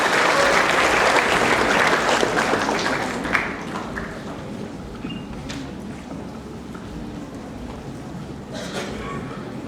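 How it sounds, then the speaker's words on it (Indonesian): An indoor audience at a morning seminar claps loudly, a dense burst of applause that slowly fades to a softer patter with a few scattered claps. "kita beri aplaus buat Bapak Sony Sugema."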